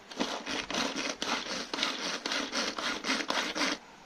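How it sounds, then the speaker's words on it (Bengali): Rhythmic crunching strokes of a hand-pulled chopper dicing green chilies and onion, about a dozen even bursts over a few seconds, fairly close and moderate with no talk. "আর এখানে আমি দুটো কাঁচা লঙ্কা দিয়ে এই চপার দিয়ে একটুখানি এটাকে আমি করে নেব"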